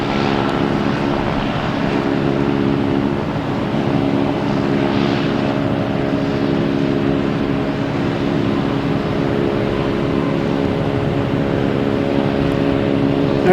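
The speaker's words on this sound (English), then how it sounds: "next taking off up is JetBlue heading to Detroit in A220" JetBlue Airbus A220 taking off at Boston Logan Airport, a loud, sustained engine roar with steady droning tones, close and constant throughout, no voices.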